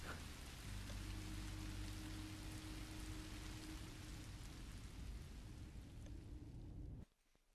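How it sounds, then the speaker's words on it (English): Steady, dense rainfall pattering across surfaces throughout in Minecraft: Story Mode, with a low background hum, cutting off abruptly near the end. "And it's raining."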